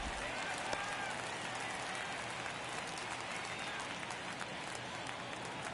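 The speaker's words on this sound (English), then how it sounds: "Crowd locked in right now." Stadium crowd in the baseball video game MLB The Show 23 cheers in a steady, dense roar through a tense ninth inning of a one-run game, with a commentator's voice running over it.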